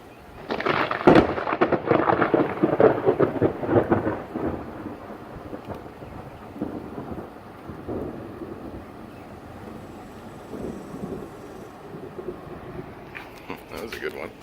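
A thunderstorm sends loud, rolling thunder crashing close by over falling rain and gusts of wind on the microphone, then eases into a quieter rumble while people react and talk.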